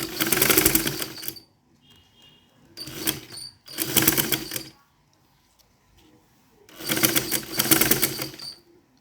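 A sewing machine stitches a crinoline ruffle sleeve in several loud, close bursts of fast, even whirring, separated by pauses of near silence.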